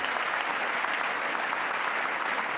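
Audience applause during a State of the Union address, a dense sustained wash of clapping from a large crowd, steady and moderately loud throughout with no pauses.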